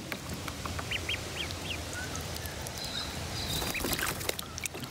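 Ducklings paddle in water, giving soft, high cheeps and peeps over a constant background of splashing and sloshing.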